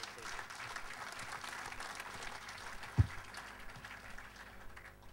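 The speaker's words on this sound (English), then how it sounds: "A round of applause," Light, steady applause from a modest crowd at a rally history book launch forum, fairly distant, with one sharp thump partway through.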